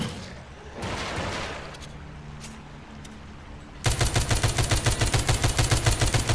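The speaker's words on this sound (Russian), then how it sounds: "Давайте я буду в плечо стрелять" Rapid automatic gunfire in The Walking Zombie 2 video game, a loud, steady burst of evenly spaced shots in the second half, after a quieter stretch of game ambience with a few faint thuds.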